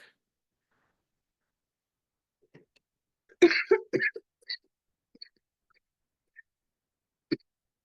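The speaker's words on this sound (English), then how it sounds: "mini coughing fit here" A short burst of coughing, a few rough coughs in quick succession amid near silence, followed by a couple of faint isolated sounds.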